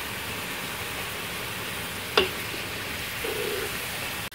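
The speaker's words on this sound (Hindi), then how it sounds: "अब मैं इन सब चीज़ों को सौते करूँगी।" Chicken and vegetables with hot sauce sauté in a pan, giving a soft, steady sizzle. A single sharp clink of a utensil cuts through partway.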